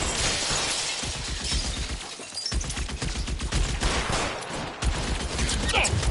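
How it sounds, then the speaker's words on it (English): Continuous gunfire from the video game L.A. Noire, a dense fusillade of rapid shots with brief dips, loud and sustained against the game's background noise. "Can't make the shot from here."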